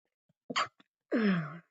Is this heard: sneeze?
yes